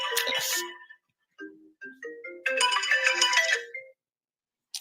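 A mobile phone ringtone plays during a lecture, a loud melodic tone followed by a short run of chiming notes, then a second loud burst of the ring before it cuts off.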